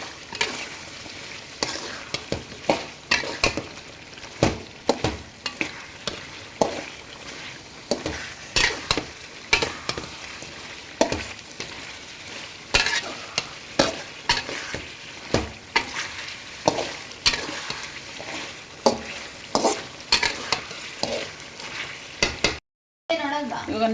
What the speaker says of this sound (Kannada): ಪೆಪ್ಪರ್ ಹಾಕ್ಬಿಟ್ಟು ಚೆನ್ನಾಗಿ ಮಿಕ್ಸ್ ಮಾಡ್ಕೊಳ್ಳಿ.